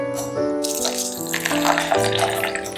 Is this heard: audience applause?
no